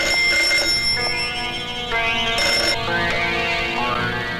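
An old telephone rings in a Bollywood action movie scene, a repeated electronic trill mixed with dramatic music.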